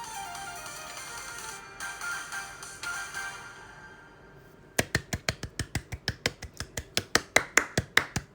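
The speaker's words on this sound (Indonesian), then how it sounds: "Tepuk tangan sendiri aku." A single person claps their own hands during a live chat stream, around twenty sharp, close claps in a steady rhythm that grow slightly louder toward the end, following a stretch of faint background music.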